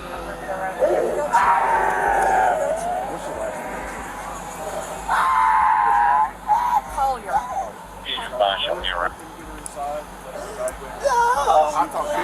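A woman screams and cries in loud, wavering wails while paramedics move her to an ambulance during a chaotic police scene, with other people talking and a radio-like hiss in the background.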